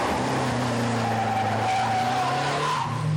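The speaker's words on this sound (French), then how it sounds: "Bruno Savi, comment ça se pilote justement une R5 Turbo?" A Renault R5 Turbo rally car driven hard, its engine revving high as the tires skid and squeal continuously, loud and close throughout.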